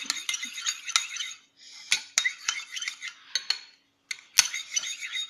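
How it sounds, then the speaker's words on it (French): A utensil stirs oil into salad dressing in a bowl, clinking and scraping against the sides in quick irregular taps with brief pauses, close and fairly quiet. "Je remue jusqu'à qu'il n'y ait plus de grumeaux et qu'on ne voit plus du tout de l'huile"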